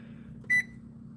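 A microwave timer gives a single short, clean beep while being set, faint and close over a low background hum, with no voices.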